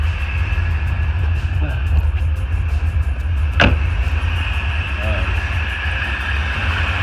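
A 1984 Corvette engine idles steadily with a low, constant rumble, a sharp click or tap cutting through midway, while someone speaks nearby.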